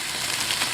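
Vegetables sizzling in a small frying pan at a campground, a steady close hiss of frying with no clear pauses.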